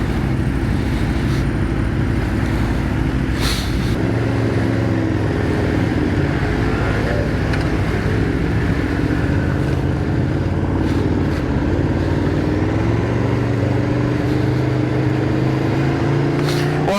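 A car laps the Silverstone Grand Prix circuit in snow. Its engine drones loudly and continuously from close by, rising and falling in pitch as it speeds up and eases off.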